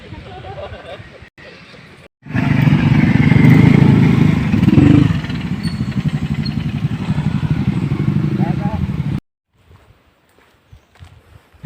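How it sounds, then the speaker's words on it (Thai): A motorcycle rides up a rocky hill at Pha Nang Dam in Nakhon Nayok, its engine roaring loud and close for several seconds, then cutting off, with people talking around it. "เมื่อกี้มอไซค์ขึ้นไป"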